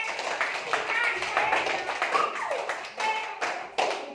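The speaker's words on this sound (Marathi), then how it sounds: "छान टाळ्या वाजवा स्वतःसाठी" A group of young children clapping for themselves in a study session, a dense ragged burst of small-hand claps with voices mixed in, close and lively throughout.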